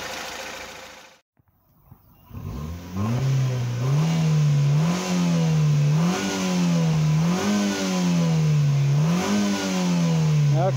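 A car engine revs repeatedly during a catalytic converter test, its exhaust blowing black and blue smoke. After a brief near-silence, the close, loud engine climbs and falls in a steady rhythm of rising and dropping revs.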